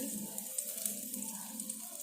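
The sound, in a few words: dried chilies and cardamom frying in oil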